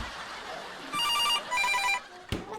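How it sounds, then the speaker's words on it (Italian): A telephone ringtone sounds close and loud in two electronic ringing bursts, followed by a sharp thump. "Mazza suoneria."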